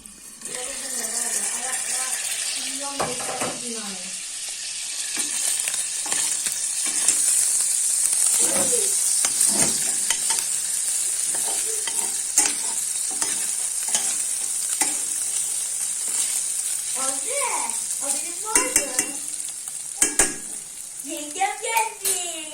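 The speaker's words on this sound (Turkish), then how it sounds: "Annem burgulu haşladı yani kaynıyor şu an pişti." A pot bubbles and hisses steadily while a spoon scrapes and stirs now and then; people talk intermittently over the cooking sounds.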